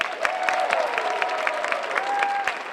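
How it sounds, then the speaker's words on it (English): Students in a school audience at Boston Latin Academy applaud in a steady, dense wash of clapping, with a voice faintly running beneath it. "Can we get another round of applause for everybody?"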